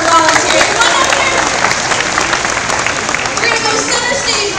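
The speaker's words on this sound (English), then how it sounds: "let's give a big round of applause for volunteers" Aquarium audience applauding volunteers, a dense, steady wash of clapping with crowd noise and some voices mixed in throughout.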